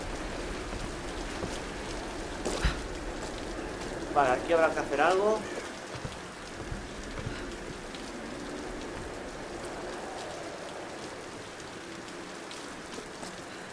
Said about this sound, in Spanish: Está lloviendo a cántaros.